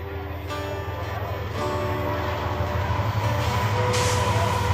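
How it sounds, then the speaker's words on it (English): A train rumbles past with a steady low roar and metallic clatter, loud and close, swelling slightly toward the end, during an evening outdoor awards and variety show at Catfish Days 2021. "Let's give a big round of applause to the train coming through this evening"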